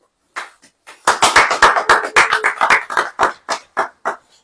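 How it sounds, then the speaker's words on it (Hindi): A church congregation claps in rough unison, starting with a few scattered claps and building into a loud, quick run of sharp claps that thins out at the end. There is no speech. "ताली बजाइए।"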